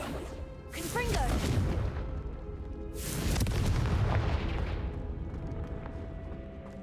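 Confringo fire spell explosions in the video game Hogwarts Legacy, two deep booming blasts a couple of seconds apart, each with a rumbling tail and crackle, loud and close.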